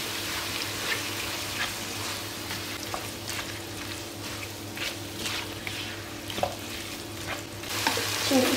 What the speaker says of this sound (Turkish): Böyle 1 yemek kaşığı da salça ilave edip. Şimdi bunlarla da güzelce bir kavuruyorum.